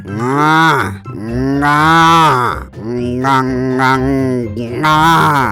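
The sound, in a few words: man imitating a cow mooing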